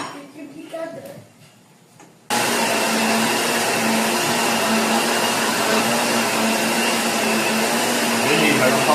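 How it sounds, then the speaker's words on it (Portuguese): A kitchen blender whirs steadily for about seven seconds while mixing batter for a savory blender pie with a beef rib filling, loud and continuous, cutting in sharply after a moment of quieter talk. "a gente vai entrar no liquidificador"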